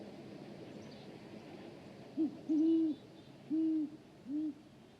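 An owl hoots four times in a short series at a steady, unhurried pace, clear and moderately close over a quiet background hiss.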